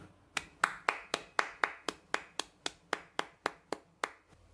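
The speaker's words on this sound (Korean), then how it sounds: "우리에게 은혜를 베푸신 우리 하나님께 감사하며 영광의 박수 올리겠습니다" A church congregation gives a round of applause during a Sunday service, heard as about sixteen evenly spaced, sharp claps in a steady rhythm, fairly close and moderately loud, with no talking over them.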